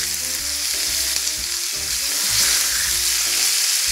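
Pork loin medallions sizzle and fry steadily in a hot pan with fresh thyme, a continuous close, bright crackle with occasional stirring clatter and no talking.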